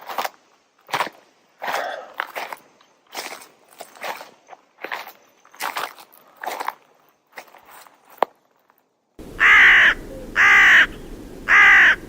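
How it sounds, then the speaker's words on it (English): Footsteps crunch steadily along a forest path for several seconds, then a raven gives three loud, harsh caws close by in quick succession. "Is that a raven I hear?"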